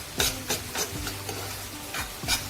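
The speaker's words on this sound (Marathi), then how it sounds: "कांदा आपल्याला आणखी थोडा शिजवून घ्यायचा आहे।" Finely chopped onions cooking in a pan for a dried bombil (Bombay duck) masala, with several scraping stirs of a spatula across the pan, close and moderately loud, spaced through the clip with no talking.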